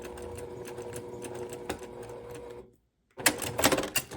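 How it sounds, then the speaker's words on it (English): A sewing machine runs in a fast, close mechanical chatter as it back stitches at a Y seam intersection, stops for a short silence, then starts again with a louder burst. "stop with your needle down when you get to that intersection and back stitch 2 or 3 stitches"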